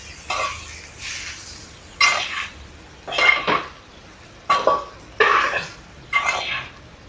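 Cooked rice being stirred in a pan for gobi fried rice, a spoon clanking and scraping against the metal in about seven separate bursts, close and clear with no talk over it.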